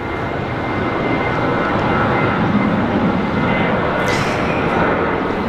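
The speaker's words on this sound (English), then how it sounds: "Virgin Australia, the first Virgin flight" Virgin Australia airliner at Brisbane Airport, a loud, steady broadband jet roar that fills the whole clip at close range with no pause.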